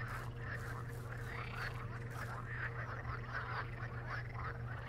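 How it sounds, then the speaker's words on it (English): Frogs croak in a video game, a dense, continuous chorus of overlapping throaty calls over a steady low ambient hum, with no voices. "Sounds like frogs."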